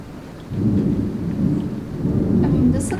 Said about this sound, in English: we have our rain, our thunder.